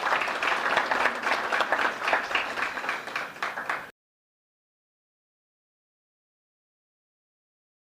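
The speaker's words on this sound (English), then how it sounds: "Let's give her another round of applause." Applause from the audience at the opening ceremony of Caribbean Week in New York: steady, fairly quiet clapping for about four seconds, then it cuts off abruptly into silence.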